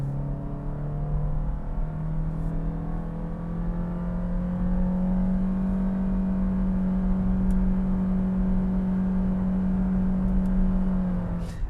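A Toyota Yaris hatchback engine with a CVT drones at a steady, held pitch while climbing a hill, a constant whining hum that barely changes, with faint road noise underneath.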